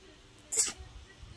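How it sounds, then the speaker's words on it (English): A single short, sharp human sneeze bursts out in a quiet room, close and brief, with faint background hum. "I gotta sneeze."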